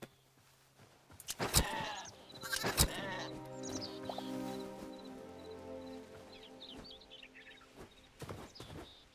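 Several sheep bleats in the video game Hytale, loud and wavering, come in bursts with a sharp click or two between them; no talking.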